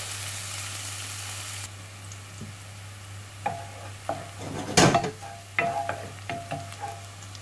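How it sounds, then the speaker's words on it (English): Onions frying in a pan for a vegan Moroccan-style tagine, a soft steady sizzle under a constant low hum, followed by a few close clinks and stirring knocks toward the end. "the onions have been cooking now for about 8 minutes"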